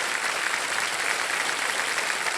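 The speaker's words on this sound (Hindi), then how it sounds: "एक बार फिर जोरदार तालियां आपके।" Studio audience at the KBC (Kaun Banega Crorepati) quiz show breaks into loud, dense applause that holds steady and unbroken throughout, with no voices on top.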